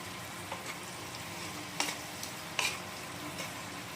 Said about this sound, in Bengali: পেঁয়াজের পেস্টটা আপনাদের একদম যতক্ষণ পেঁয়াজের ময়েশ্চারটা না চলে যায় ততক্ষণ ভেজে